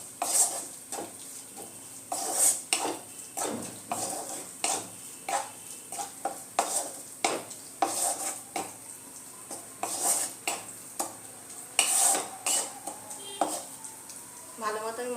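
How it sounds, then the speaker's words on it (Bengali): Masala and water being stirred in a pan for methi matar malai, with a spoon repeatedly clanking and scraping against the metal in an uneven rhythm, close by, over a light sizzle. "একটু জল দিয়ে দিলাম, এবার এটা মশলাটা মিশিয়ে নেব।"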